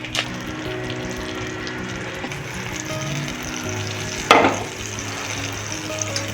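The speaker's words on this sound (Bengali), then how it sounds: "বাটারে আমি এই সবজির ভাজাটা করবো।" Vegetables fry in a pan of butter with a little white oil, a steady close sizzle running throughout, broken by one sharp clatter midway.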